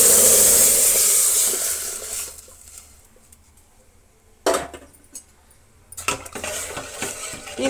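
Sambar poured into softened fried onions in a pot for a large batch of ivy gourd sambar, with metal clatter and liquid splashing, loud at first, then quieter stirring and scraping with sharp bursts.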